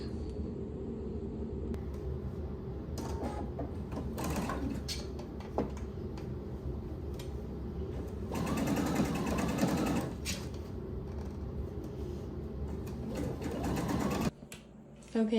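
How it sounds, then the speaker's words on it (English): A sewing machine understitches a facing seam in short bursts of rapid mechanical chatter separated by pauses and handling noises, heard close and moderately quiet. "Okay, I sewed the facing on and I understitched it."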